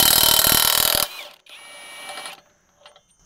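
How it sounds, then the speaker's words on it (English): A Hercules Ultra Torque impact wrench running on auto mode tightens a fastener in a loud close burst of about a second, followed by quieter motor whirring that fades out. "we will tighten this back up and see how it works on auto mode"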